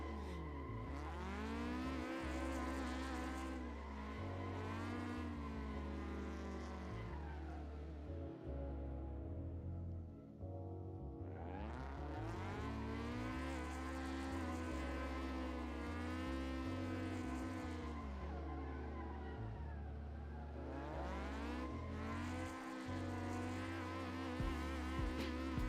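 A car drifting under throttle control roars through repeated rising and falling engine revs, with long waves of loud, buzzing exhaust note and tire squeal sweeping in and out around a brief lull near the middle.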